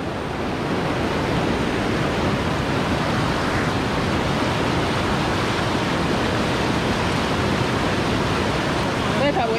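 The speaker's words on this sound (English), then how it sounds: "Looking at the beautiful water flowing down." Continuous rushing river water fills the scene with a steady, broad roar, close and unbroken, like a fast stream pouring down, at a riverside campsite in Jamaica.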